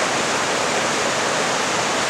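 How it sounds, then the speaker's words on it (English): A clear, gushing Duckabush River on the Olympic Peninsula in the Hood Canal region rushes in a loud, continuous wash of whitewater heard from close by, with no voices. "Right up against and above a very clear and gushing Duckabush River."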